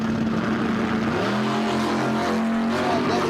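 Drag racing cars, including a Chevrolet Monza, idle and rev at the burnout box, their engines loud and continuous with the pitch shifting as the throttle changes.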